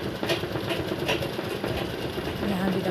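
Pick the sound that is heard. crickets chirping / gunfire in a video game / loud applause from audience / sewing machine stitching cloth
sewing machine stitching cloth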